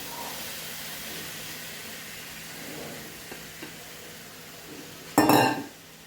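Sabudana is stirred in a pan for sabudana khichdi, with a quiet hiss and a couple of faint ticks before a short, loud clatter of a spoon against the pan near the end; no one speaks.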